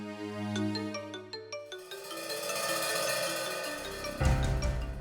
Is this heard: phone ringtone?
yes